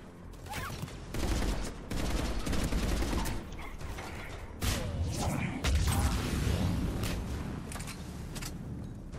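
Bursts of rapid gunfire and mechanical clatter in the video game Mass Effect 3, loud repeated volleys with short gaps and whooshing effects between.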